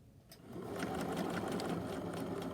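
A sewing machine stitches a double row with twin needles, a rapid even whirring clatter that starts after a brief pause and then holds steady and close.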